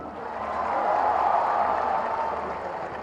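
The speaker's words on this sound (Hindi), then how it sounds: "गड़गड़ा के ताली" Thunderous applause from a large outdoor crowd welcoming Chief Minister Yogi Adityanath at an NCC training academy foundation ceremony in Gorakhpur, a dense, steady roar of clapping that swells and holds for several seconds.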